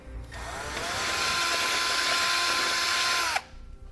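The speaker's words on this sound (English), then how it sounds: "we're going to drill out that hole to the full size of a 3/8 inch" A power drill boring a 3/8-inch hole in a 2018 Chevrolet Equinox during a tow base plate install whirs up and spins steadily for about three seconds, close and loud, then cuts off abruptly.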